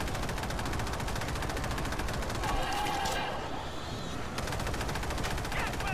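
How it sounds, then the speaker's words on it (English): A Vector SMG fires in World War Z in long, fast automatic strings, loud and continuous with only a brief lull, while a player talks over the shooting. "I love this SMG."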